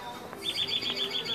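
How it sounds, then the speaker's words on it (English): Birds chirp outdoors on a calm night near a bar, a quick run of repeated high, bright chirps in an even rhythm over faint background noise. "the birds are chirping."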